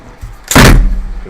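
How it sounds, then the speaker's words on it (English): A mechanical keyboard board dropped onto a desk mid-build gives one sudden loud thud, followed by a brief rumbling tail. "you gotta stop freaking out if I drop a board"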